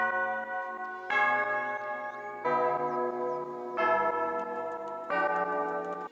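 Dissonant, ringing bells, known as the Calamity bells, in a symphonic rock track, struck in five sustained chords that overlap and decay into one another.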